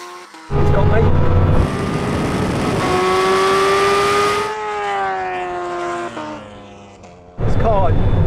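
A Bugatti Chiron Super Sport slides sideways during a drag race against a Kawasaki H2R and Ducati Panigale, a loud engine roar with a sustained whining squeal that drops off, then a sudden burst of noise at the end.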